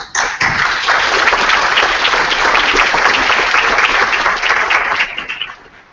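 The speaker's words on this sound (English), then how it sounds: "I just want to give you a round of applause right now" Audience at a Latino coder summit morning session gives a loud, dense round of applause that starts abruptly, holds steady for several seconds, then tapers off.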